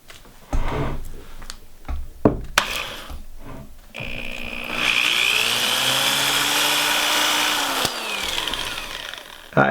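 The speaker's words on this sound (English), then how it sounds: "drill pilot holes in here" A power drill bores pilot holes into a wooden Dutch door for a tiny house build: a few short bursts and handling knocks first, then one long steady whining drill run with a pitch that dips and recovers, close and loud.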